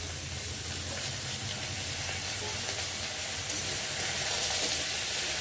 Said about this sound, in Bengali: এখন কেটে রাখা সবজিগুলোকে দিয়ে ভালো করে তেলের মধ্যে কষিয়ে নেব